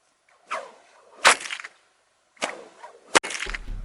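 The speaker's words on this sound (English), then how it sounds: "It's a bit that creates that real loud crack you get from a stock whip is a little sonic crack, a sonic boom" A stock whip cracks sharply several times nearby, each swish ending in a loud, abrupt snap from the cracker at the end, with short quiet gaps between strokes.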